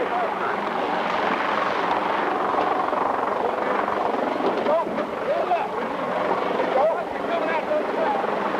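A helicopter drones loudly and continuously overhead, its rotor rumble steady throughout, with voices murmuring underneath.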